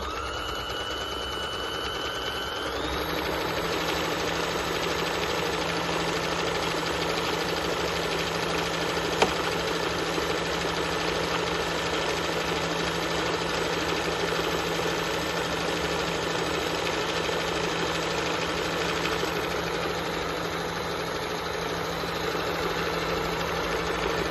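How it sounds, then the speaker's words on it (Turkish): A home-type rope and piping making machine stitching thick cord runs continuously, a steady mechanical hum and rapid chattering rhythm, close and even throughout with no voices. "biz sustuk makine konuşuyor"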